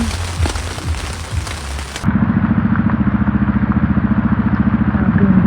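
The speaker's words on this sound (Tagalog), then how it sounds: "So sobrang lakas ng ulan." Heavy typhoon rain pours down noisily on a surface at a campsite in Tagaytay, followed by a loud, steady rhythmic engine-like drone with rain still falling beneath it.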